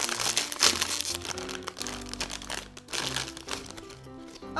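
A snack package is opened with a loud burst of crinkling and crumpling plastic, then softer rustles and crackles continue close to the microphone, with no talk over them.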